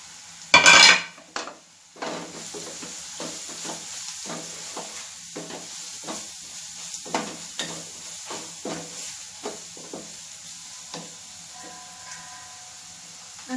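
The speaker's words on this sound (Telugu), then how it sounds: "ఈ పౌడర్స్ అన్నీ ఇందులో యాడ్ చేసి బాగా కలుపుదామండి." Spice powders being stirred into fried onions in a pan while cooking taro curry: a loud clatter at the start, then steady scraping strokes of a spoon against the pan, regular and close, over a faint sizzle.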